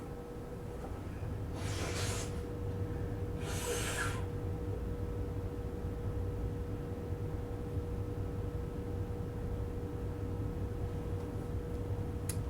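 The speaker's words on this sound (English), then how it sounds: "I have to blow my nose." Two short, forceful nose blows, each lasting under a second, a couple of seconds apart over a low steady room hum, with silence afterwards.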